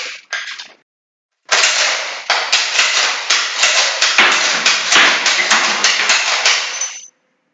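Rapid British Mad Minute rifle fire rings out as a fast run of sharp, loud cracks, about a dozen shots in quick rhythm after two brief opening bursts, each crack close and metallic with a short tail.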